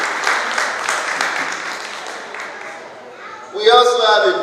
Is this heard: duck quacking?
no